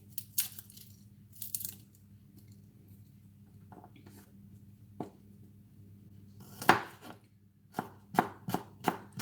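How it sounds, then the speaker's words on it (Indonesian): Garlic cloves are crushed by hand in a quiet kitchen, with a few isolated sharp knocks early on and then a quick cluster of crisp thumps toward the end. "Bawang putih digeprek dulu biar wangi."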